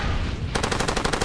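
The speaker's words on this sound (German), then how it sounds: "Ich guck, wie schnell der schießt mit der Saw" After a brief lull, a SAW machine gun in the video game Far Cry 2 fires a rapid, loud burst of about a dozen evenly spaced shots.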